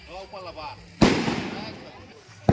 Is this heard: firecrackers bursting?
yes